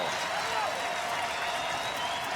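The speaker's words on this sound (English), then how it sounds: "And now Tommy Thompson, a standing ovation from the home crowd, and deservedly so." A home crowd giving a standing ovation at a Sacramento Republic FC versus Tulsa Roughnecks soccer match, a broad, sustained wash of distant stadium applause and cheering under a commentator's voice.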